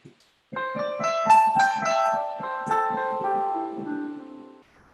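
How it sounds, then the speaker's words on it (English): A C pentatonic scale played as a run of clear, ringing melodic notes on an instrument, close and solo, with the last notes sustaining and fading. "So this is the sound of C pentatonic."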